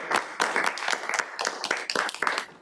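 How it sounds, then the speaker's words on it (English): A small group claps at a committee meeting room, with distinct close hand claps forming an uneven, lively patter that stays fairly loud throughout the short burst. "I think we should all give Francisco a round of applause for 4 years of leadership."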